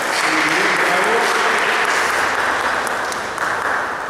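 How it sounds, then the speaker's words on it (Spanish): Guests at a baptism applauding in a steady, dense wash of clapping that holds loud for the whole stretch, with a voice faintly underneath. "un aplauso para Valentino y sus padres y padrinos."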